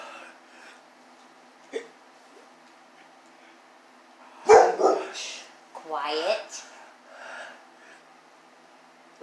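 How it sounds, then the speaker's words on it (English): A dog lets out a short burst of barks and yips close by after a quiet stretch, with a single sharp knock just before them. "No barking."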